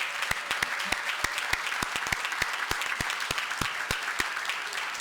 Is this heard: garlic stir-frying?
no